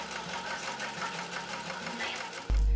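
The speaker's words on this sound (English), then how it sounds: "Then I sew the seam on the machine." Electric sewing machine stitching a seam on small doll clothes, a steady rapid mechanical whir with rhythmic needle clatter, close and continuous, then an abrupt loud low hum near the end.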